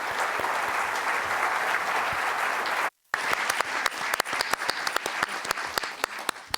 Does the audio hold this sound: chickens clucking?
no